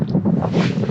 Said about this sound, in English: Wild wind is just making presentation a little bit awkward.